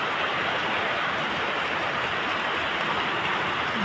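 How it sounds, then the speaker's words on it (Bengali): Heavy rain falls steadily, a dense, even hiss of downpour that fills the whole stretch without letup and with no voices. "আর আমাদের এখানে প্রচুর পরিমাণ বৃষ্টি হচ্ছে, সকাল থেকে এখনো বৃষ্টি হচ্ছে"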